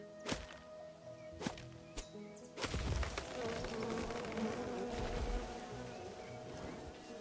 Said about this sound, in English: Let those bees do what they do.